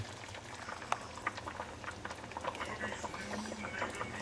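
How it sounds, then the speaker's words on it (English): Figs simmering on low heat as they cook down into fig syrup, giving a soft continuous bubbling and popping with small irregular blips, close and fairly quiet. "they're bubbling away and approaching figgy perfection"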